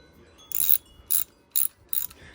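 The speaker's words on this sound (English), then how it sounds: "This is called a ratchet." A 3/8 ratchet wrench worked back and forth on a Yamaha, giving four short bursts of crisp pawl clicking separated by brief pauses, close and fairly quiet.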